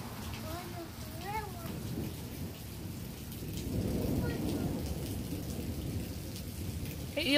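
Steady rain pattering outdoors during a June thunderstorm, with low rumbling thunder swelling in the middle, heard at a distance under a voice and adult talk.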